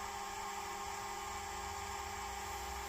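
A Nova Nebula wood lathe spins at its 4,000 RPM top speed, giving a steady, even whine with a constant motor hum that holds level throughout, with no talk.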